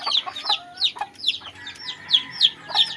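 Chickens, including a white hen and a rooster, cluck and chirp repeatedly at close range in quick, overlapping bursts of high peeping calls, with no talking.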